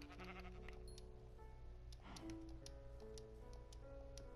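Sheep bleating in the video game Minecraft, a short faint bleat set in a quiet game soundscape with steady low background hum and a few light clicks.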